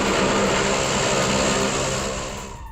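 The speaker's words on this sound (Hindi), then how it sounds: "ये देखिए विमान गोले बारूद से लैस होकर उतर चुका है इजराइल की धरती पर" A military airplane carrying ammunition lands in Israel, its loud, steady engine roar filling the air close by before slowly fading toward the end.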